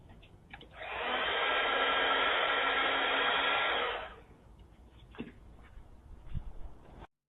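A hair dryer blows at an airport weather sensor in Paris, switching on after a second and roaring steadily for about three seconds before cutting off, followed by faint handling rustles.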